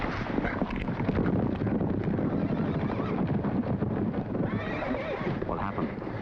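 A horse whinnies loudly over the steady clatter of hooves, with wind rushing across the microphone throughout, in a historical TV drama scene.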